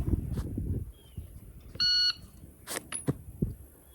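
An electronic shooting timer gives a single steady start beep of about a quarter second during a Steel Challenge two-gun practice run, followed by a few sharp clicks and bursts of noise, with no speech.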